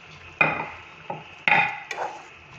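A spoon stirs Marathi taro-stem curry (aluchi bhaji) in a pot, giving four close, sharp metallic scrapes and knocks with brief pauses between them.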